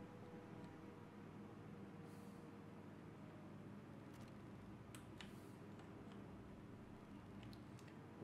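A train rolls past in the Roblox Jailbreak game, a faint, steady low rumble with light ticking and clicking that holds for several seconds, with no talking.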